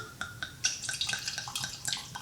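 Alcohol-removed Merlot wine poured from a screw-top bottle into a glass, making a close, continuous liquid splash and gurgle with small bubbling pulses for about two seconds.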